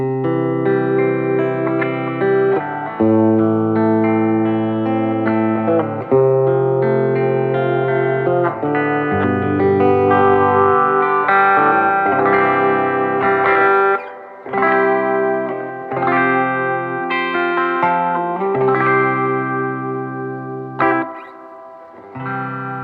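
An electric guitar plays through a Fender Vibrolux Custom 68 reissue amp with the reverb turned up, strummed chords and single notes ringing loudly with a wet, echoing tail.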